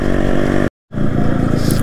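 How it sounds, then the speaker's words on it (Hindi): A Yamaha RX motorcycle fitted with a modified muffler runs loud and close, its throbbing exhaust broken by a brief silent cut before the engine note returns. "इसमें आवाज़ सुनिएगा भाई साहब आरएक्स का। ओम फो, क्या साउंड है भाई साहब मॉडिफाई मफलर का।"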